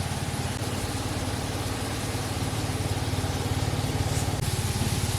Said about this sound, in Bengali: আমি পোস্তটাকে বেটে নিচ্ছি।